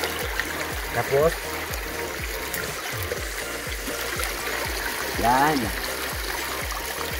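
Vegetables are rinsed by hand in a clean, flowing river during an outdoor riverside lechon cookout. Water trickles and splashes steadily close by while a person talks over it.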